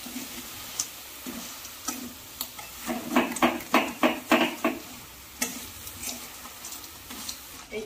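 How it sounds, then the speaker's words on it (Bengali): Cherries and batasa are sautéed in a pan on lowered gas, with quiet scattered scrapes that build into a quick run of rhythmic stirring strokes, then taper off against a faint sizzle. "এই চেরি ফল আর বাতাসা কষে নিয়েছি"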